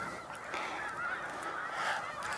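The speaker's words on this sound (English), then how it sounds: "more geese, more snow geese." A large flock of snow geese honks continuously on Cayuga Lake, a dense, overlapping chorus of calls at moderate distance with no talking.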